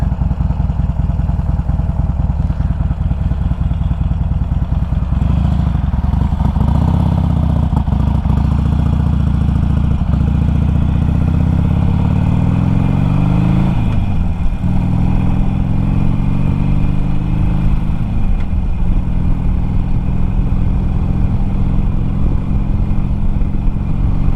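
A Harley-Davidson Sportster 1200 motorcycle with mini ape hangers is ridden, its engine a loud, close, steady rumble with a few rising and falling revs as it pulls away and shifts, and no one talks over it.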